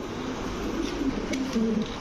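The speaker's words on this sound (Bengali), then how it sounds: "স্প্যানিশ ভাই একটু ডাকটা দেখাই আগে" A Black Spanish pigeon coos in a few low, throaty, rolling phrases, close by and fairly loud against a steady background hum, with no talk.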